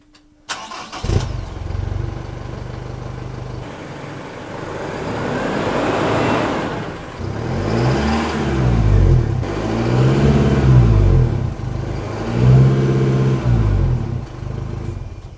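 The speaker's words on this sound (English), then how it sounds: "we're going to do the same test that we did before so you can hear the" A 4x4 diesel engine with a 3-inch DPF exhaust starts with a sharp crank, then idles with a deep rumble. It revs up several times in repeated rising and falling sweeps, loud and close to the exhaust.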